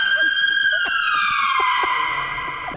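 A nearby police car siren sounds as a single long, loud wail that slowly drops in pitch, with faint tapping sounds underneath.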